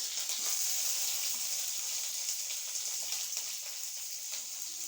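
Onions frying in a pan for a tomato coconut milk curry, a steady faint sizzle with a bright hiss running on without pause.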